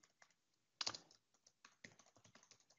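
Fingers type on a computer keyboard while entering AL code for a Business Central extension, quick close key taps in an irregular run with one louder clack early on.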